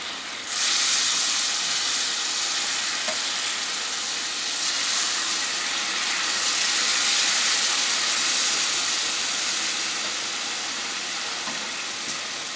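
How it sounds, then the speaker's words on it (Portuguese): Steady, loud hissing of steam rises from a pot of rice pudding cooking on the stove, a continuous bright sizzle that holds for many seconds with little variation. "Mesmo que ele esteja crente, que ele esteja quente, ele vai fazer um pouco de vapor, tá?"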